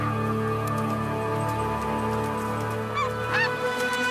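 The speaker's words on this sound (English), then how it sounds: "With eggs to protect, these lesser snow geese won't stray far." Lesser snow geese honk repeatedly from a flock guarding eggs in the Arctic spring, a dense chorus of overlapping calls with a few louder honks standing out near the end.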